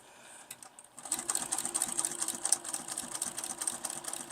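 A sewing machine back-stitches a seam on upcycled denim jeans, starting after a moment of near quiet and then running in a steady, close, rapid mechanical whir with faint rhythmic ticking and no speech.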